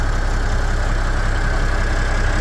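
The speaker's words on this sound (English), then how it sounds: "It's a really nice sounding engine." Massey Ferguson 1135 tractor diesel engine idling in a steady, loud, unbroken rumble with no voices.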